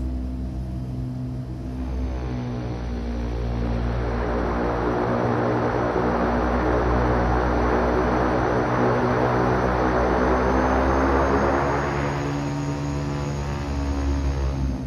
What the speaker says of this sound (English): let's taxi down to runway one two turn our taxi light on